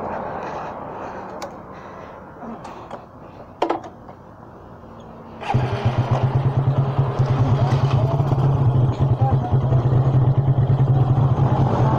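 Suzuki Raider 150 motorcycles, one fuel-injected and one carbureted on an open pipe, idle and clatter at first, then one bursts into a loud, steady, throbbing engine roar as it pulls away under acceleration.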